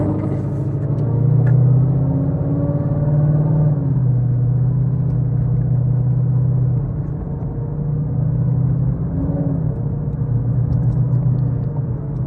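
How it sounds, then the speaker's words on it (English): Truck with a stage 3 RSA 10R80 transmission accelerating from inside the cab: a loud, low engine drone rises in pitch, drops at a hesitant 4th-to-5th shift, then climbs again under steady road rumble. "Right now the 4 to 5 shift, it kind of hunts for it a little bit"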